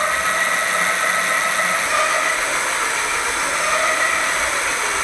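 Paselec Climber 3 electric mountain bike motor running under thumb throttle, a steady high-pitched electric whine and whir held evenly for several seconds, with no talk.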